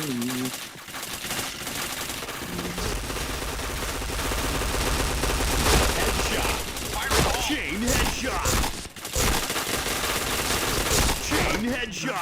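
Rapid gunfire and headshots ring out in a shooter video game, with dense repeated bursts and shots over a busy in-game soundscape, while voices come through at times.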